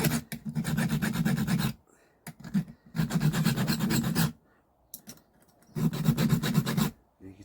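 A file rasping across the teeth of a Titan chainsaw chain, three long runs of rapid back-and-forth grinding strokes, close and loud, separated by short pauses with a few lighter scrapes.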